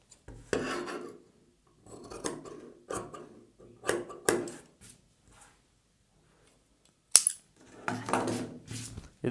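Scissors cutting lining fabric for a boat neck blouse, heard as several close, dry rasping snips in short bursts with quiet gaps between them.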